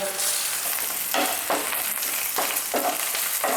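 Green chillies fry in oil left over from frying fish, a loud close sizzle that surges in rhythmic bursts as the pan is stirred.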